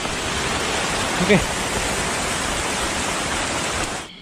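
The Balang-Bolang waterfall in Gowa regency, a dense, steady roar of falling water filling the whole clip at close range, with a brief spoken word partway through before the sound cuts off at the end.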